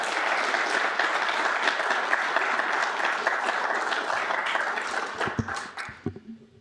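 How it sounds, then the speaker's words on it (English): An audience at a city presentation applauds in a sustained round of many hands clapping that thins out into a few scattered final claps. "If we could please give them another round of applause."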